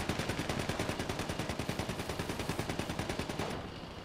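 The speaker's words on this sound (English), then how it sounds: "Uh-oh, taking fire." Rapid automatic gunfire in the video game GTA 5, a fast and steady string of sharp shots at an even rhythm that runs for several seconds and then cuts off, leaving a faint tail.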